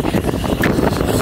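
Strong gusty wind buffets the microphone outdoors, a loud, steady broadband rumble and roar with fluctuating gusts throughout.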